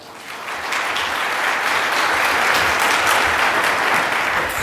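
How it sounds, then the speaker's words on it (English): An audience at an ice cream distributors' keynote applauds volunteers coming up on stage, the clapping rising quickly from a quieter start into loud, sustained, dense applause. "Big round of applause."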